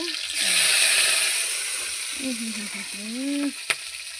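Onions fry in hot oil in a pan in a village kitchen, giving a steady bright sizzle throughout while a voice speaks briefly over it and a sharp tap sounds near the end.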